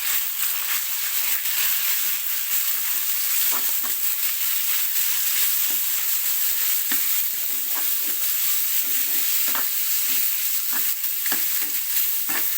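Pork with curry paste and beans stir-fried in a hot pan gives a continuous loud sizzle, with a spatula scraping and tapping at irregular intervals throughout.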